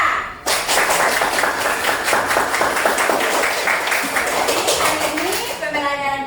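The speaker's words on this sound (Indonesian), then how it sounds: "Kalau kalian senang, tepuk bersama untuk semua" Students in an Indonesian classroom clap together in unison, a loud dense burst of applause that fades into a few trailing claps and a voice at the end.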